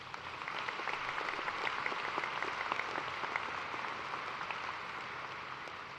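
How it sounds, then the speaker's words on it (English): Audience at a graduate commencement ceremony giving a round of applause, a continuous, even patter of many hands clapping at moderate loudness without voices. "Please give Dr. Foster another round of applause to thank her."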